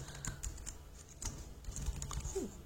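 Keys clatter on a computer keyboard while someone types into an Excel sales dashboard, a quick irregular run of light clicks heard up close with no talking.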